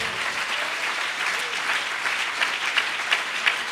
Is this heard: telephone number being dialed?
no